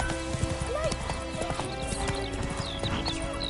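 Roach the horse gallops in The Witcher, hooves clip-clopping in a quick steady rhythm up close, with a brief whinny and a voice speaking over the hoofbeats.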